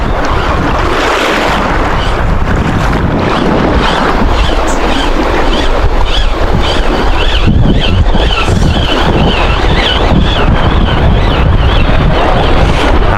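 Strong wind roars against the microphone in a constant heavy rush, with a watery wash of waves or spray underneath.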